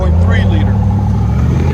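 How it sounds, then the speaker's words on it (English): 2019 GMC Sierra with a 5.3L V8 and Flowmaster Super 10 mufflers on a dual exhaust with factory resonators, a deep, loud, close exhaust rumble held steady for a moment. "GMC Sierra 2019 FLOWMASTER Super 10 factory resonators."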